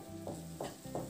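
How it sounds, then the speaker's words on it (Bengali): Potatoes and pointed gourd, already fried, are stirred into a spiced masala in a pan, giving three soft scraping stirs at a steady pace over a faint background sizzle, close and fairly quiet, with no talking. "আলু আর পটলটাকে মিনিট 2 মতো একটু নাড়াচাড়া করে নেব।"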